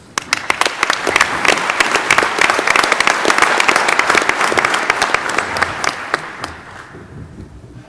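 Loud, sustained applause from a large conference audience welcoming speaker Doug Lucas, dense clapping that holds steady and then thins out and fades near the end.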